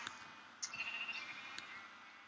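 A sheep in a Minecraft modpack gives a single faint bleat over a steady, hissy game background, with a couple of soft clicks around it.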